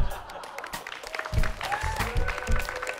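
Studio audience applause rolls steadily through a Polish TV comedy show, a dense, continuous patter of clapping with faint voices mixed in.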